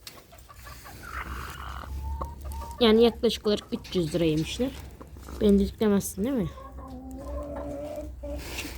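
Chickens clucking close by on a farm while being fed lettuce, a series of short, nasal, pitched clucks and squawks in uneven bursts, heard under and between a woman's nearby speech.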